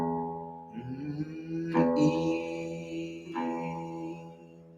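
A guitar's first string, tuned to E in standard tuning, rings out in three plucked tones that start about a second apart. Each note sounds clearly and alone, with a sustained, gently decaying ring.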